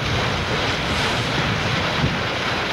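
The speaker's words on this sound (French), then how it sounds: "Là, on va prendre des sacrés vagues" Waves slapping against a small boat on a river during catfish fishing, a steady loud wash of surf and wind noise with no pauses, close to the microphone.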